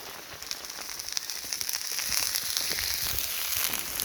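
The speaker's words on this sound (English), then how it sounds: "I know it's raining, but who cares?" Steady, soft rain pattering on a surface, a continuous fine hiss with scattered drops that grows slightly louder partway through.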